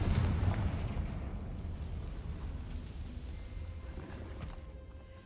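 The Confringo blasting spell bursts in Hogwarts Legacy, a loud booming explosion at the start whose rumbling roar slowly decays over several seconds, with no talk over it.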